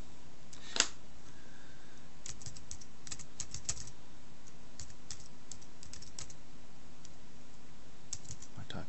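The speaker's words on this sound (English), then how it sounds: "the keyboard's working perfectly well with this as well" Scattered keystrokes on a USB keyboard connected to a Samsung Galaxy S2 phone click faintly against a steady background hiss, coming in short irregular bursts with pauses between.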